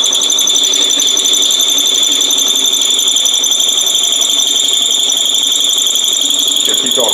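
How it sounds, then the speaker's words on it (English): A drill press with a 3/8 inch bit runs with a loud, steady high-pitched motor whine as it bores through wood, continuous throughout. "So we'll go over to the drill press. We'll drill that straight through."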